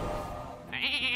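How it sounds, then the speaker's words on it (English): A short, close sheep bleat plays from the Hearthstone polymorph spell during a mage arena game. The single wavering cry comes right after a brief whoosh. "Turn this one into a sheep."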